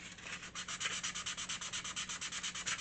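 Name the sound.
sanding furniture edges by hand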